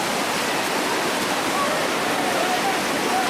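Whitewater rushing through the Table Saw rapid, a dense, unbroken roar of churning water that stays loud and even throughout with no voices.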